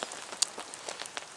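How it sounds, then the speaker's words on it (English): Rain falls at a woodland hammock camp, scattered drops tapping irregularly on a nearby surface, fairly faint, with one sharper close hit and no talking. "The rain's not easing"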